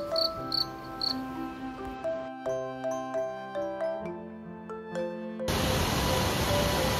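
Crickets trill in short, high chirps beside a river at night in the Dooars hills, mixed with a soft melodic tune, before a steady rush of flowing water takes over near the end.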